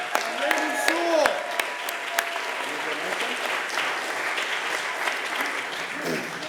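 Audience applause at a birthday celebration at an arts center, a sustained burst of clapping that stays steady throughout, with a voice speaking over it early on.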